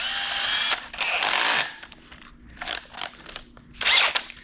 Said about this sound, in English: I am going to grab my cordless drill and put on my step down bit.